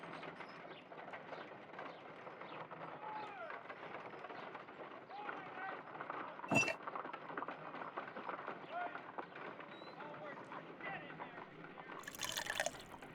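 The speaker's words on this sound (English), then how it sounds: "If I wish to shape the ice knife, then I need to pour water inside the mold." Water poured into an ice knife mold in a Sherlock Holmes video game, a soft, steady trickle and splash running under background game sounds, with a brief sharp click midway and another burst near the end.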